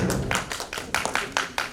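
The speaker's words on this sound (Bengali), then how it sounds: "জোরে একটা করতালি হোক" Audience claps for a gift presentation on stage, a loose patter of hands with several sharper bursts, moderately close and fairly steady.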